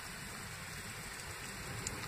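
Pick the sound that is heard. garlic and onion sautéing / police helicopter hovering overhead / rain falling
rain falling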